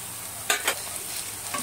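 Tomatoes frying in a pan for spicy chicken are stirred in a couple of quick scraping strokes around a soft sizzle, with no voices.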